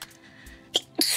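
A person sneezes twice, a small burst followed by a sharper, louder sneeze, over quiet background game ambience.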